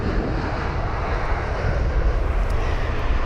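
A British Airways Airbus A321neo, five years old, arrives at London Heathrow, its engines a steady, loud broadband roar that holds evenly throughout with no voices.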